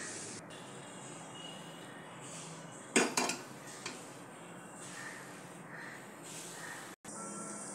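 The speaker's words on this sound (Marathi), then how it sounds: "गॅसवर मी कढई ठेवली आहे." A kadhai is set down on a gas stove with a brief cluster of metallic clanks and clinks midway. Quiet kitchen stillness comes before and after, with one faint clink later on.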